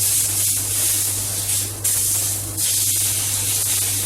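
Fat on a 35-day hung Aberdeen Angus steak from the farm sears in a hot pan, giving a steady, close, loud sizzling hiss that briefly dips twice before continuing, with a low hum beneath and no talking.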